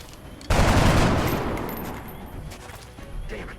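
A single loud shot from a weapon in the video game XCOM: Long War cracks out suddenly and then rings off in a long decaying tail with faint game ambience behind it.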